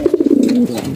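A racing pigeon gives a loud close coo, a rapid pulsing run of low notes that melts into one sustained throaty tone and then fades, heard alone.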